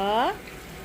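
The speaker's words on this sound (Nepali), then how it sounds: "अब मसलालाई हामीले मजाले भुट्नुपर्छ।" Steady hiss and sizzle of spice paste with turmeric frying in a pan for prawn curry, following a brief voice at the start.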